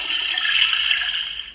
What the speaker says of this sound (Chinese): 有听到他冲马桶的声音